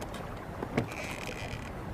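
Traditional felucca sailing boat on the Nile, a faint steady rush of wind and water with a brief soft knock partway through, no talking.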